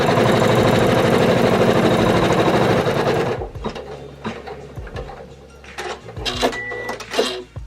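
A single-needle home embroidery machine stitches the placement outline for the nose of an in-the-hoop felt key fob, a loud steady mechanical whir for about three seconds, then stopping; faint handling clicks and rustles follow.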